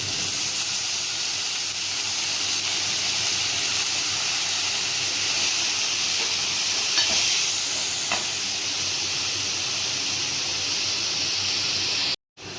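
Banana stem pieces fry with onion and chillies in hot oil in a pan, giving a steady, loud sizzling hiss that runs almost unbroken throughout, then cuts off briefly near the end.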